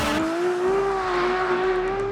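A Ferrari F12tdf held sideways in third gear at part throttle, its V12 singing a loud, sustained high-pitched wail that rises slowly, with a faint rasp of tire scrub underneath.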